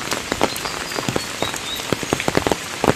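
Heavy rain pours onto a flooded road and waterlogged fields, a dense steady patter with sharp close drops splashing throughout.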